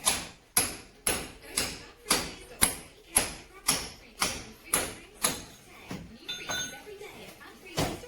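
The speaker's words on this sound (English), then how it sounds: "Easy with little hammer." A small one-kilogram hammer taps sharply one at a time at a steady, even pace, about a dozen metallic taps in all, close and clear, while fitting ground floor joists.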